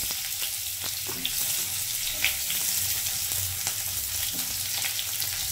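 Onion frying in oil in a pan with bay leaves gives a steady, close sizzle, broken by a few light clicks of stirring, and no one talks.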